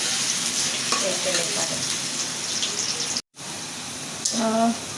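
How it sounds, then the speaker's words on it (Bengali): Onions frying in a pan for chicken curry give a dense, close sizzle with stirring scrapes, briefly cut out near the middle before resuming, and a soft tonal clink near the end. "তারপরে পেঁয়াজটা দিয়ে দিলাম করে ভেজে নেব"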